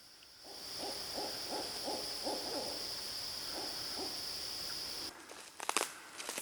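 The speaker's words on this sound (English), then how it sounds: "hear the owls?" Several owls call in woods at night, a rapid series of low hoots repeating over a steady insect hum, and then footsteps crunch nearby through leaves and brush.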